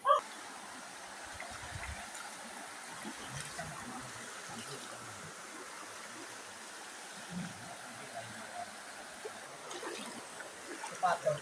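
Water pours from a pipe at a hillside water tank, a steady soft rushing flow with faint splashes, fairly distant and low in level.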